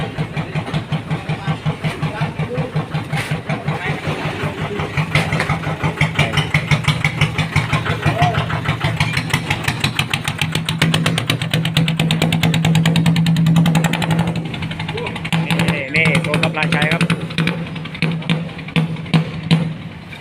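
Homemade Thai e-taen farm vehicle engine at a village merit-making festival, chugging steadily then revving harder at launch, a loud close rhythmic thump with rising throttle bursts, no talk over it.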